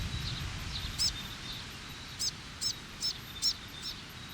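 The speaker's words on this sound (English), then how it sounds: "in the heat of the afternoon, fantails are picking off insects rising above them." New Zealand fantails calling from trees on a hot afternoon, a series of sharp high chirps spaced about every half second to a second, faint against a quiet low background hum.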